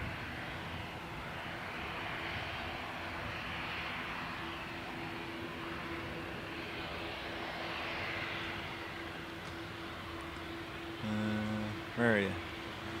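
The Garda police fixed-wing aircraft, flown by the Air Corps out of Baldonnel, drones steadily at a moderate distance near Dublin Airport, with a brief tonal chirp of radio chatter near the end.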